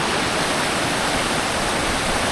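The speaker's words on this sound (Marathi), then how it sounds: "जो समोर तुम्हाला धबधबा दिसत असेल तिथेच आपल्याला जायचं आहे" A forest waterfall pours steadily nearby, a dense, unbroken roar of falling water that fills the whole clip without any voices.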